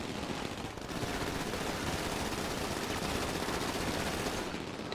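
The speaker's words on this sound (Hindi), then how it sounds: "किसके ऊपर गोलियां चला रहे हैं लोग?" Automatic gunfire in the video game GTA 5: dense, continuous rapid shots that stay loud and unbroken for the whole stretch, with no talking.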